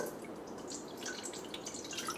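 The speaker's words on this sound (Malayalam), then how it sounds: "ഈ പാത്രത്തിലേക്ക് നമുക്ക് കുറച്ച് വെള്ളം ഒഴിക്കാം." Water trickles and splashes steadily into a vessel for making Kerala banana chips, a soft continuous pour with light dripping, fairly quiet and close.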